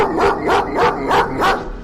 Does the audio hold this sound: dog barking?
yes